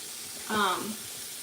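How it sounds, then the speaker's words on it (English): Chicken cordon bleu stromboli filling sizzles and hisses in a hot pan, a brief swell of frying noise over a steady background hiss. "I hope you can hear me over this sizzle."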